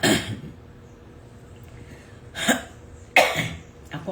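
Three sharp coughs, close and fairly loud: one near the start, then two more spaced a second or so apart toward the end.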